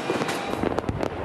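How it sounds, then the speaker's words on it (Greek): Fireworks burst over Athens at New Year in Syntagma Square, a dense crackling barrage of rapid booms and pops heard from a distance. "Η Αθήνα υποδέχτηκε τη νέα χρονιά με χιλιάδες πυροτεχνήματα στην πλατεία Συντάγματος."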